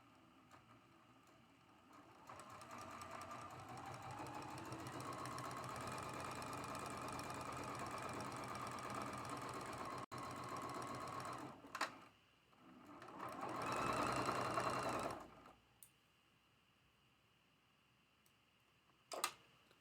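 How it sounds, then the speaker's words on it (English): A sewing machine runs steadily for several seconds, stitching a quarter-inch seam on a quilt triangle for an hourglass block. A second short burst follows after a pause, with a few clicks at close range. "we're going to sew that with a 1/4 inch seam allowance as well"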